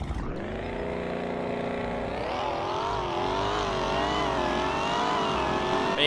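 Video-game Jeep Grand Cherokee Trackhawk HPE 1000 with a cammed engine launching hard, a loud steady engine roar climbing in pitch as it pulls away, with no gear breaks, and continuous up close.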